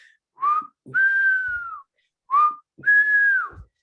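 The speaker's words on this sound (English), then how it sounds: "We call it the hunt command or the hunt whistle. It's kind of with a pitch like" Two pairs of short, clear hunt whistle signals for a retriever dog, each a brief rising chirp followed by a longer falling tone, sounded alone with pauses between.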